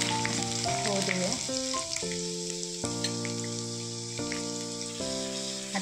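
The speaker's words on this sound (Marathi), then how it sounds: "लसूण जो बारीक केला आहे टाकूया, तो टाकूया। लसणाला छान आपल्याला क्रिस्पी होऊ द्यायचे आहे।" Finely chopped garlic sizzles and crackles steadily in hot oil while it crisps, a continuous close frying hiss with light stirring under a loud melodic music track.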